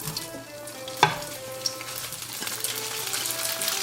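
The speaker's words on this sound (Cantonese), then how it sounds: "每一邊都煎到金黃色" Homemade kao fu wheat gluten pan-frying in oil in a large flat pan, a close, continuous sizzle with bright crackles and one sharp pop near the start, no voices.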